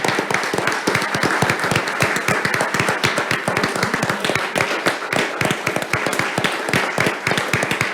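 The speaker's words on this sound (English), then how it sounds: "everybody can join me in a round of applause" A meeting audience at a village council session gives a round of applause: dense, steady clapping from many hands that fills all eight seconds at an even level, with no talk over it.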